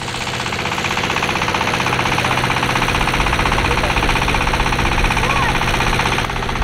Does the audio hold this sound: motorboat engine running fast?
yes